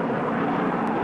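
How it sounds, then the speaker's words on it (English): A critically damaged F-100F chase aircraft in flight during a 1963 tactical weapons test gives off a steady, dense roar that holds at an even level with no break. "Tracking mount on the ground picked up the chase aircraft, the more critically damaged of the two."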